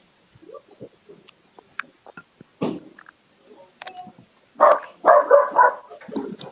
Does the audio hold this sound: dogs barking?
yes